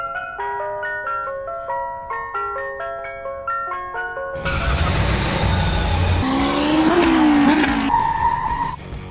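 Ice cream truck sound effect on a toy monster vehicle: a chiming melody plays first, then a loud burst of engine roar and tire squeals takes over.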